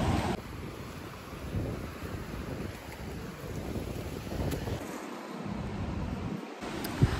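Steady rushing of ocean waves at Ngwe Saung beach with wind buffeting the microphone, a continuous outdoor wash with no voices.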